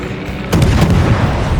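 Torpedo hits in World of Warships against a Gearing destroyer: a sudden heavy, deep boom after a low rumble, followed by a sustained rolling roar of explosions.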